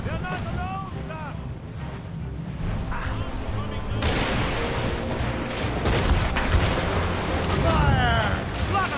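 Warship cannons booming in a naval battle in Assassin's Creed Rogue, heavy blasts and rumble over sea and ship noise, with voices shouting across the fight.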